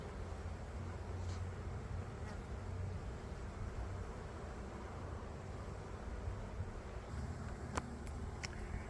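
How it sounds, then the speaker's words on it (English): Honeybees at an open hive frame during queen rearing hum in a dense, steady buzz close by, with no talk over it. "So I'm just going to brush the bees off."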